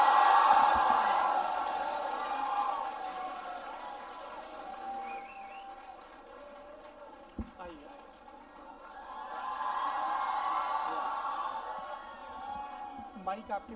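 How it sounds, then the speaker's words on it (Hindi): An indoor audience at a talk event applauds and cheers to welcome a speaker, in two swelling waves of clapping and crowd noise at moderate level, with a voice speaking over it. "जोरदार तालियों से स्वागत करिए विकास दिव्य कीर्ति सर का"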